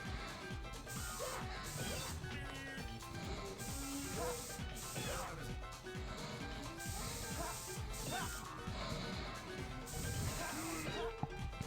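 Spray cans hissing as graffiti is painted in the Jet Set Radio video game, mixed into dense game music and sound effects, with a voice talking over it.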